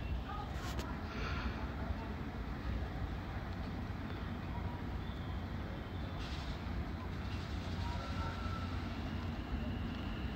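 Greater Anglia electric multiple unit 720124 departs Cheshunt station, a continuous low rumble of traction and wheels on rail that holds fairly steady throughout, heard from the platform.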